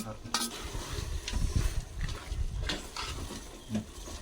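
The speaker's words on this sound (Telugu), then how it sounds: "మటన్ ముక్కలకి పట్టేటట్టుగా మనం అటు ఇటు కదుపుతూ ఉండాలి" A spoon scrapes and stirs mutton pieces in a pan with a soft sizzle, with irregular clinks against the metal and faint talk in the background.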